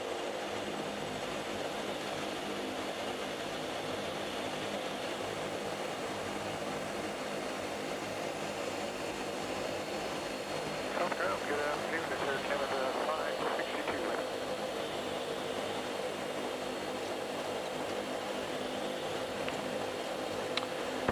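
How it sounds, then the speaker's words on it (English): A Dash 8 turboprop engine is brought out of feather, a steady propeller drone and engine hum heard from inside the aircraft that swells slightly midway, with no voices over it. "So what I'll do in anticipation of that is I'll bring the other engine out of feather."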